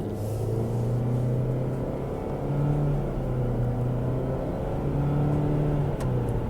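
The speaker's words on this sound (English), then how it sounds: "you kind of get that moving sound that you get in all the Cvt transmission cars" A 2018 Nissan Qashqai with a CVT transmission drones steadily while driving, its pitch holding almost level with slight rises and falls, a continuous close whir and rumble.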